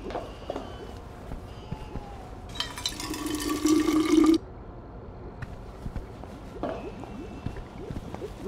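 Water being filtered in the game We Happy Few: a brief gush of running, pouring water lasts about two seconds, set against quiet ambience and light footsteps before and after.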